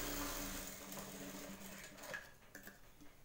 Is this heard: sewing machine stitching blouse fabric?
yes